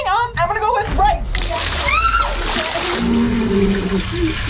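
Water pours and splashes into a water coffin challenge box, a continuous sloshing rush heard up close under excited talking and children's voices throughout.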